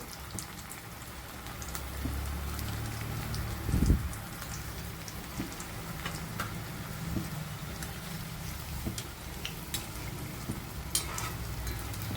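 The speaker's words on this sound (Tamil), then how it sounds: "இப்போ நம்ம உருட்டி வச்சுருக்க உருண்டையை ஒன்று போட்டு எடுத்துக்கிறோம்." Banana kola balls sizzle in hot oil over a low flame, a steady crackling hiss with scattered pops and a brief louder splash as one ball drops in.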